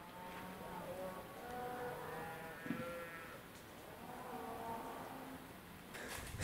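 Muddy cows being chased out of a camp area in southern Utah give long, drawn-out moaning bellows, several overlapping calls at moderate distance over a steady outdoor background, with a few quieter cries between them.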